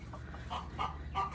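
Hens clucking inside a backyard chicken coop in hot Arizona weather, a few short soft clucks scattered over about a second and a half, moderately close and fairly quiet, with no talking.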